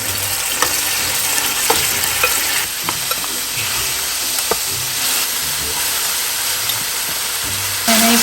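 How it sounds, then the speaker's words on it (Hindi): Food fries in a quarter cup of oil on high heat in a home kitchen, a loud continuous sizzle and hiss with occasional crackles and stirring clicks throughout, no talking. "मैंने इसको हाई हीट पे फ्राई कर रही हूँ।"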